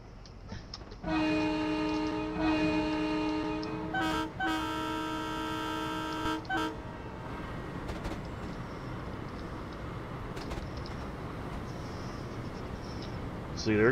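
A train in the Train Simulator video game sounds a long sustained multi-tone horn blast, followed by steady rolling rail rumble and clatter as it travels at speed.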